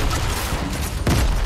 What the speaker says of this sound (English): Are you on the proximity grenade launcher?